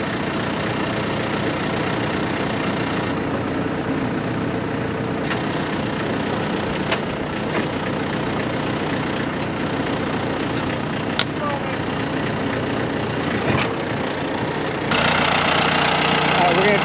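A tractor engine idles steadily and loudly close by, a low continuous rumble that holds for the whole stretch and swells slightly near the end.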